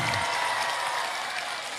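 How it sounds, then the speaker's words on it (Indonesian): Steady crowd applause from a village audience in Indramayu at a public address, dense clapping from many people sustained evenly throughout, with no voice over it. "Iya, semuanya tepuk tangan."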